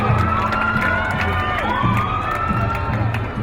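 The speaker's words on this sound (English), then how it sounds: "How about a big round of applause for them?" A parade crowd at a Pioneer Day parade cheers and applauds Ogden High School cheerleaders on hot asphalt, a steady dense roar of shouts, whoops and clapping with a few voices rising above the din throughout.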